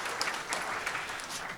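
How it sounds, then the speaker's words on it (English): A short burst of audience applause at a city chamber event, steady rapid clapping from a seated crowd, close and moderately loud with no voices over it. "Let's give them a round of applause."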